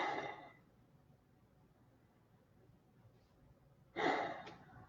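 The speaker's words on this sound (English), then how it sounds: "Take a couple of deep, heavy breaths." Two deep, heavy breaths, one at the start and one near the end, each a soft airy rush close to the listener, separated by quiet.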